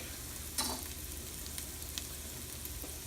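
About two cloves of chopped garlic sizzle in a pan with Southern-style green beans, a steady soft frying hiss with a couple of faint clicks, quiet and without talk.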